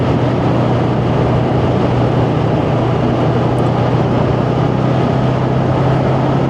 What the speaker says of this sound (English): just putting the power on, there is certainly plenty of torque off that 500cc engine.